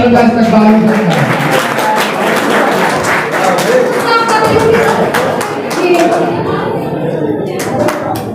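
Clapping from the audience at a Teachers' Day ceremony welcoming the teachers, steady and moderately loud, with someone speaking over it and music playing underneath, fading toward the end.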